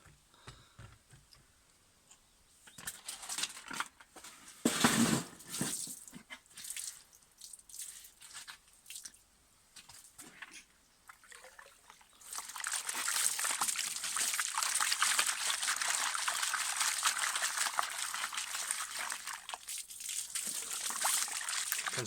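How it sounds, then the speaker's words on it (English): Gravel sloshing and trickling in water while being panned for gold in Scotland, with scattered drips and splashes early, then a steady louder rush of water swirling in the pan. "Let's pan through this and see what we've got."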